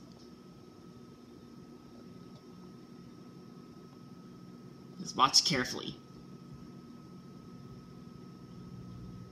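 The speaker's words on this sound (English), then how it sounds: "let's watch what happens when you microwave Peeps" A microwave oven heating Peeps marshmallows gives a steady, quiet electrical hum with a faint whine, and a person speaks briefly midway.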